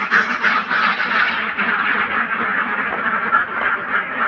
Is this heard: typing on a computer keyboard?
no